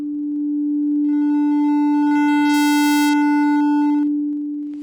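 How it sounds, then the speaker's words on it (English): A steady, loud sine tone that turns harsh and buzzy as hard clipping adds bright upper harmonics, with a gritty burst near the middle before it eases back. "we'd be adding hard clipping"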